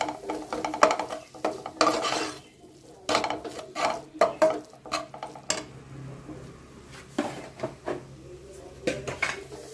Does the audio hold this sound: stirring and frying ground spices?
yes